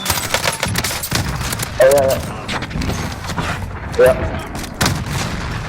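Gunfire in the Call of Duty Warzone battle royale game, scattered sharp shots and rattling bursts over a busy mechanical background, with a player briefly speaking over it.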